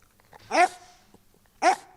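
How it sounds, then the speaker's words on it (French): A trained film dog gives two sharp, separate barks close by, about a second apart, with quiet between them. "Et Patrick Pitavino ne dresse pas n'importe quel chien, les siens sont de vrais artistes du cinéma"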